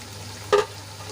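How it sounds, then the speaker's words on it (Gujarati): A semolina and raw potato snack frying until crispy makes a soft, steady sizzle, broken by one brief clink near the middle. "આપણે બંને બાજુથી ક્રિસ્પી થાય ત્યાં સુધી તળી લેવાનો છે"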